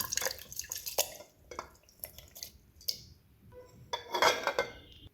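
Ingredients and water are tipped into a jar, with splashing, dripping and hard clinks against the container, quick and close.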